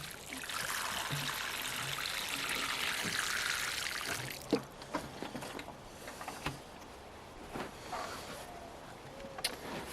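Water pours steadily onto potted banana plants for about four seconds, a broad rushing splash, then gives way to quieter trickling and scattered drips.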